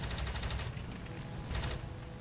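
Aircraft cannon fire from a fighter in War Thunder, attacking an HE-111 bomber: two dense, rapid bursts of loud automatic fire, one at the start and a shorter one near the end, over a constant engine drone.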